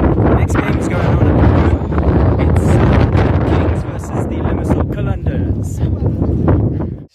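Strong wind buffets the microphone at a cricket ground, a loud continuous roar and rumble with gusts throughout, while a voice speaks underneath.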